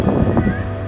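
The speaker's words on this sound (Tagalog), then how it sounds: "Lakas ng hangin dito" Strong wind gusting outdoors along a beach boulevard in Camarines Norte, buffeting the microphone with loud low rumbles and bursts over a short moment.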